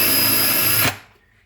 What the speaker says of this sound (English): I'll have it on the drill function first, just to start off the initial hole.